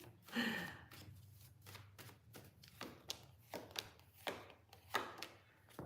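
A deck of cards is shuffled in a series of short riffling and tapping bursts during a psychic reading session. The sound is quiet and close, with irregular rhythm.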